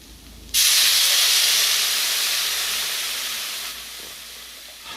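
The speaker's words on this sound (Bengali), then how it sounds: "আমি এখন জল দিয়ে দেবো" Water splashed into a hot pan of fried Malabar spinach and shrimp, bursting into a loud, close hiss that stays steady for about three seconds and then drops to a softer simmering sizzle.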